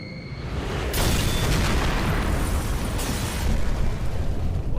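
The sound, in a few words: gas tanks exploding in video game Max Payne 3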